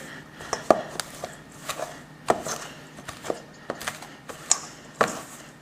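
A pastry blender cuts softened butter into flour for apple crisp, giving a string of irregular close taps and scrapes against the bowl, about a dozen soft knocks spread across several seconds with no talk.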